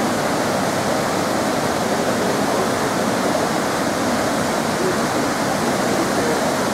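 Steady, loud roar of a waterfall in Snowdonia, a dense unbroken rush of falling water heard up close with no other sounds over it.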